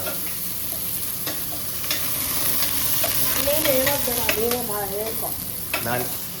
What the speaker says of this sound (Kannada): ಈರುಳ್ಳಿ, ಒಣಮೆಣಸಿನ್ಕಾಯಿ, ಕರಿಬೇವು ಮೂರು ಒಟ್ಟಿಗೆ ಹಾಕ್ಬಿಟ್ಟು ಚೆನ್ನಾಗಿ ಬಾಡಿಸ್ಕೋಬೇಕಲ್ವಾ?